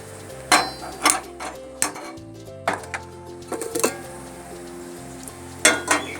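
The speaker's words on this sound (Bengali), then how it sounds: "এর মধ্যে আমি একটা ডেচকি বসিয়ে দিচ্ছি।" Metal cooking pot set on a gas stove among kitchen work, a series of sharp metallic clanks and clinks at irregular intervals, close up, with a low hum between them.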